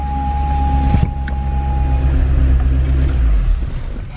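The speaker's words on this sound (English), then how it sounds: "If I go ahead and start the car, you can see the window does go up and down just fine" Power window on a salvage 2012 Chevrolet Corvette Grand Sport with the engine running, the window motor whirring steadily close-up over the idling engine hum, with a brief clunk partway through.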